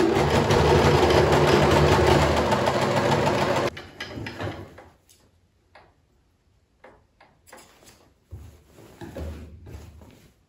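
A sewing machine runs a continuous loud stitching whir for about four seconds along the last seam of a bed crown curtain in an antique restoration. Quieter handling clicks and rustles follow.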